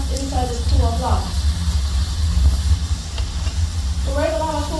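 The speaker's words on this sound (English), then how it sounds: "So this is all this steam being trapped inside this pool of lava." Steam trapped in a pool of molten lava hissing steadily as a broad continuous rush, with someone talking over it at the start and end.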